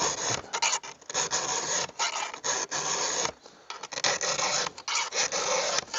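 Stihl MS 462C chainsaw chain being sharpened by hand with a round file held at about 30 degrees for felling work, giving close, steady raspy strokes in bursts with brief pauses, no talking.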